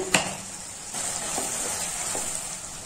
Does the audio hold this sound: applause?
no